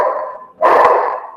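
Dogs bark outside, a short burst of barking and yipping heard somewhat muffled, with one louder bark after a brief pause.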